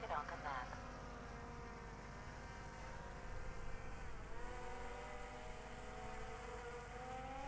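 Drone flying over Tulang Island in the Philippines, a steady high-pitched whining buzz with shifting tones that sustains throughout, heard over a continuous background hiss, fairly close.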